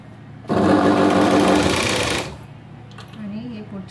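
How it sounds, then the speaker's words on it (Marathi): A sewing machine stitches a seam on a princess-cut blouse, whirring steadily and close for about two seconds before stopping, followed by someone speaking softly. "हे बघा, मध्ये शिलाई मारायची 5 नंबरची."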